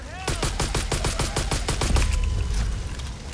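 Rapid automatic gunfire in Far Cry 5, a fast string of about a dozen sharp shots fired at animals, followed by a deeper booming rumble, loud and close.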